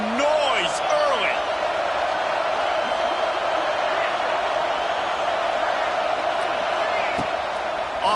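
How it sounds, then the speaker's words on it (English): Loud, continuous roar of a stadium crowd at an American college football game, Georgia versus Ohio State, with a commentator's voice talking over the steady din. "This crowd bringing the energy and noise early."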